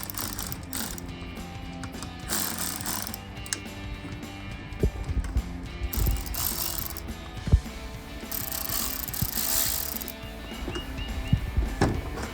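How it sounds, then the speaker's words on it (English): Ratchet wrench clicking while loosening and removing bolts on the throttle body of a Challenger V8, short bursts of close mechanical ratcheting with brief pauses and a few sharp knocks, no talking. "Next step is to remove the bolts. Loosen up a little bit."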